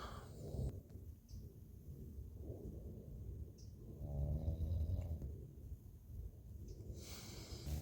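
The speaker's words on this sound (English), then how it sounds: "Snoring his head off." Deep, rumbling snores from a man in a tent rise and fall in slow breaths, fairly close, with a soft rustling background and no talking.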